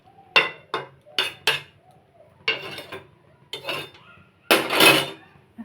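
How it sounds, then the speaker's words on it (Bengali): A metal lid is set onto a cooking pot of dal and vegetable shukto, giving a series of sharp close clinks and clatters in separate bursts, ending in a louder, longer rattle. "এখন আমি ঢাকা দিয়ে দেব।"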